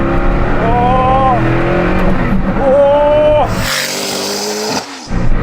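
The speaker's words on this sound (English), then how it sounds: "Time to take the Hennessey Venom out for a drive on a twisty," A Hennessey Venom F5 hypercar with a limited slip rear differential accelerates hard on a twisty, narrow road, its loud engine rising in pitch in repeated surges with a brief tyre squeal, while a voice exclaims over it.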